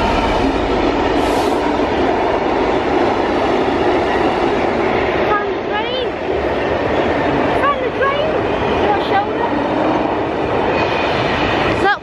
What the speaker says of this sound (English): under that bridge with the train going over